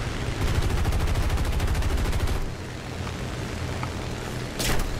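Rapid automatic gunfire from a War Thunder arcade battle rattles loudly for about two seconds, then gives way to a steadier engine drone, with another short burst near the end.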